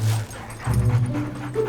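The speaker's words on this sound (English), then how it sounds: "Sorry, River, why do you have so many dogs?" Dogs out with a dog walker whimper and yip in short, close vocal bursts over about two seconds, with no talking.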